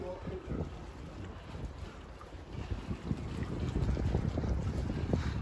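Cold wind gusting by the Volga river in Astrakhan, a steady rough low rumble of wind buffeting the microphone that swells louder toward the end, with water and boat-like noise underneath.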